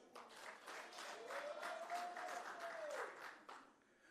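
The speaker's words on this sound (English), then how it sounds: "Good round of applause." Audience applause at a local government week session, a soft, steady patter of clapping from a distance with a faint tonal whine running through it.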